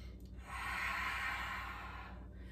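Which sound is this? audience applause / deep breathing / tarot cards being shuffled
deep breathing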